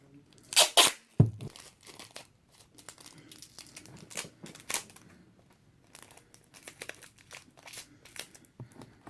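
Tape crinkling and tearing while a gift basket is wrapped, with busy bursts of plastic crackle and a sharp rip near the start, followed by many close, uneven crinkles and rustles.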